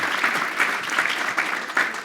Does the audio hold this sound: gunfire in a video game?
no